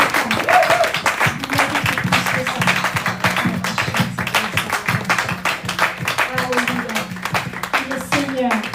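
A church congregation acclaims the Lord with dense, continuous clapping and applause mixed with loud voices and cheering, all close and filling the room throughout.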